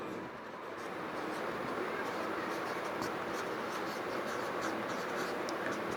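A pen scratches out a written answer by hand during a math lesson, a continuous dry scraping at a steady level across the whole stretch.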